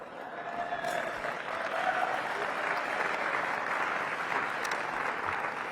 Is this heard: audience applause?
yes